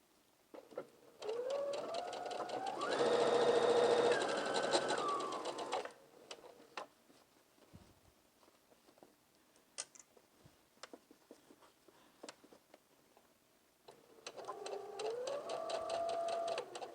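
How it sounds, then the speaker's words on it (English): A sewing machine stitches fabric from end to end with a backstitch at each end: a loud whirring run lasting several seconds that shifts speed, then quiet handling noises, then a second burst of stitching. "we're going to begin sewing here and sew all the way to the end, beginning and ending with the backstitch"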